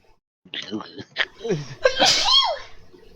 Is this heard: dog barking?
no